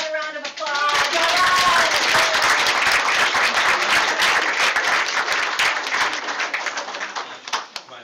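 Audience applause at a school board meeting honoring award recipients, sustained dense clapping from a roomful of people that rises quickly, holds steady and tapers off near the end, with a voice heard at the start.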